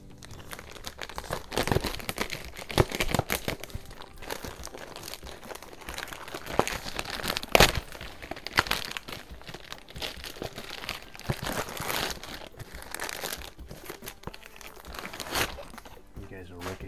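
A small mail package box is torn open by hand. Irregular bursts of crinkling, crunching and ripping cardboard and wrapping come up close over several seconds, with quieter rustling between.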